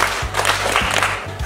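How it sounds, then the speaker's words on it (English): Schoolchildren clapping for a classmate in an African classroom, a lively patter of many small hands, close and busy, over a low repeating thump, with no speech over it. "Clap for her."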